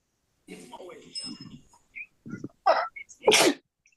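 A person sneezes during a zoning board of appeals meeting: soft breathy voice sounds first, then a short inhale and a loud, sharp sneeze burst at the end, close to the microphone in a quiet room.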